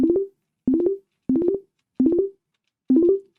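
Five short synthesized percussive blips made in the Vital synthesizer in a steady pattern, each a bright tonal stab with quick decay, separated by brief silences.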